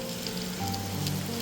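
Steady rain falling at night around Dhrangadhra on the way to Halvad, a dense continuous hiss with a low rumble of a vehicle beneath it, no voices present.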